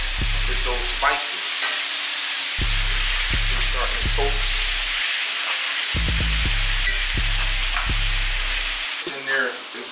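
Oyster mushrooms frying in a hot pan with spices, a steady close sizzle throughout with periodic stirring clatter and brief low hums.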